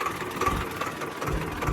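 A tractor engine idles steadily, left running while unattended, giving a rough continuous rumble with uneven low knocks and no voices.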